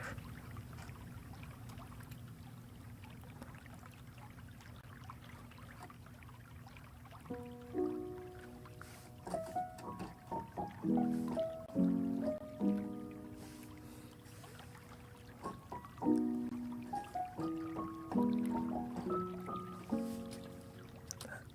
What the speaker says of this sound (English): let's get some water sound.